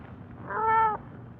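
A cat gives one short, clear meow in an old radio crime drama scene, close and fairly loud over a faint background hiss.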